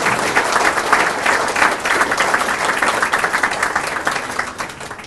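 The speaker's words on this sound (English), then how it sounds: "let's give an extra round of applause for this next guy and his family as well" A banquet crowd at a Hall of Fame event applauds steadily, dense clapping filling the space for several seconds without letting up.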